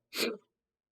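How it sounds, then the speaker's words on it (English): A single sharp, forceful sneeze from a man, brief and close, followed by silence. "Oh god, sneeze was brutal."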